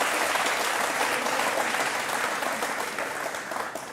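A studio audience at a televised interview show claps loudly and steadily, a thick, continuous patter of many hands that holds its level and tapers slightly toward the end.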